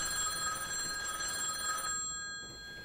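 A telephone in a video game rings with a steady electronic bell tone that holds for about two seconds, then cuts off into near silence, quiet overall with no talking.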